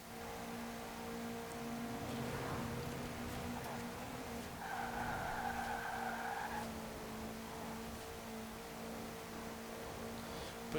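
A 1955 Porsche 550A Spyder in Forza Horizon 4 driving at speed, a steady high engine drone with tires squealing in a brief midway stretch, moderately loud with no voices.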